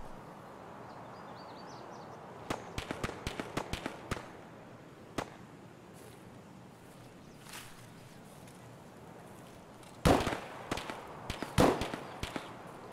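Sharp gunshots from an Escape from Tarkov match with scavengers: a quick burst of cracks, then a lone shot, then two louder close volleys near the end over quiet ambient background.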